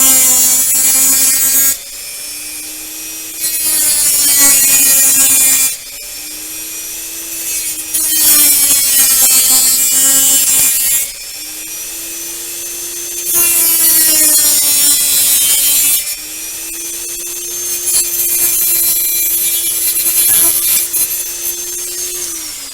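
A rotary grinder cutter works on a Monogram Battlestar Galactica Cylon Basestar plastic model kit, whining loudly in several sustained bursts of a few seconds each, separated by short pauses, with a steady pitched tone and gritty grinding above it.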